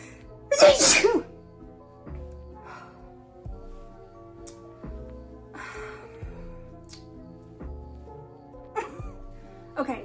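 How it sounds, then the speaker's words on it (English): One sharp, explosive sneeze bursts out near the start, followed by quiet room noise and a few soft breaths and small movements. "Hold on, I'm gonna sneeze"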